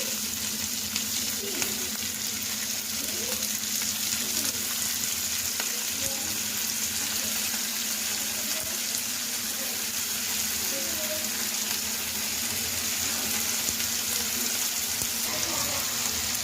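Vegetables with onion and tomato sizzle steadily in a hot pan, a continuous broadband frying hiss with faint crackles and occasional stirring, fairly close and unbroken throughout.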